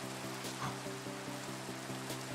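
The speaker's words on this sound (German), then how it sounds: "Jetzt mit Regen." Rain falls in the video game Minecraft as a steady, even hiss, heard under a repeating rhythmic pulse of background game music.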